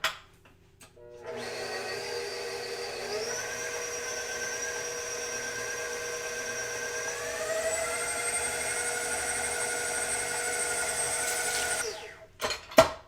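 An electric mixer whirs through citrus cake batter, a steady motorized whine that steps up in pitch twice as the speed increases, running alone for about ten seconds before switching off with a few clunks.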